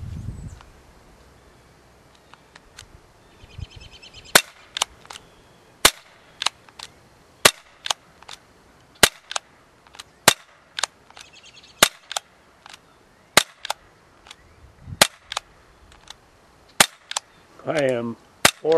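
An ASG CZ75 P-07 Duty CO2 airsoft pistol fires 0.25 g BBs at a pan target outdoors, giving sharp, loud snapping shots in irregular bursts, some near-rapid, with birds chirping faintly and a brief voice near the end.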